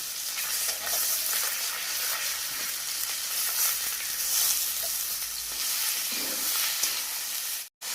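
Mixed vegetables and sun-dried lentil dumplings sizzle in a pan, keeping up a constant broad hiss with soft stirring scrapes. The frying stays near and even, then cuts out briefly near the end.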